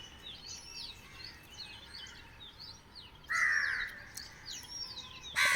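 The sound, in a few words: crows cawing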